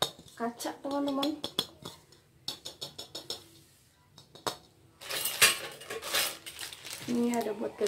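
A new cooking pot with a glass lid is unboxed and handled, giving close metallic clinks and knocks, crinkling packaging and the rattle of the lid, with someone talking at times.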